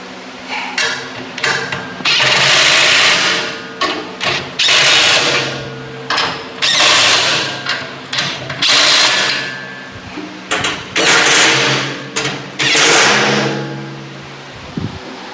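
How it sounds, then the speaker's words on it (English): Bolts being tightened with a power tool while an Ace 6 cubic ft. wheelbarrow is assembled: loud repeated whirring bursts, mostly about a second long, with brief pauses between them, close and alone. "then you can go ahead and tighten your bolts."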